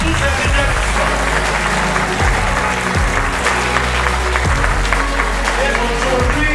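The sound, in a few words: applause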